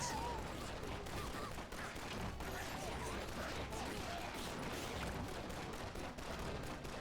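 Rapid gunfire from a weapon in the farming shooter Atomicrops, a dense, continuous stream of shots and impacts filling the whole stretch at steady volume with no pauses.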